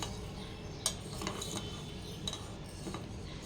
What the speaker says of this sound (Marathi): हळूहळू आपण याला शेक करूया आणि पूर्णपणे याला डिझॉल्व करून घेऊ